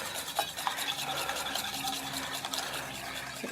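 Cake batter of melted butter, eggs and milk stirred in a bowl, a close, steady swishing and scraping rhythm that runs without pause and without talk.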